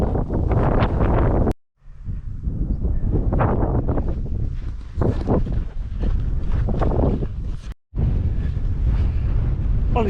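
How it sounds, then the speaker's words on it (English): Wind gusting across open Heptonstall Moor, loud buffeting rushes against the microphone that swell and ease, with two brief drops into near silence. "it's quite breezy on Heptonstall Moor"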